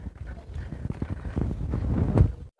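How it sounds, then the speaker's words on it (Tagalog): A horse walking along a path through the woods, its hooves clip-clopping in a loose, uneven rhythm close to the microphone with some wind buffeting. "Doon po dumaan yung kabayo"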